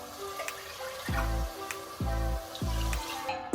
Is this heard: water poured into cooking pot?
yes